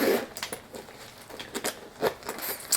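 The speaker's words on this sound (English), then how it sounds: "It zips open like this." The zipper of a designer bag is pulled open in short, quiet rasping strokes with small pauses and crinkly handling noises between them.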